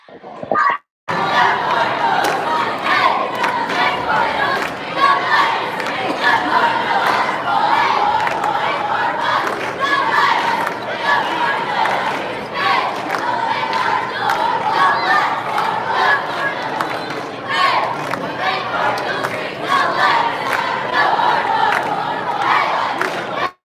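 Cardinal cheerleaders shout chants over a loud, continuous crowd roar in a high school boys' basketball gym before the fourth quarter of a third-place tournament game.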